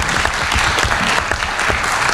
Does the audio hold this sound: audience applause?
yes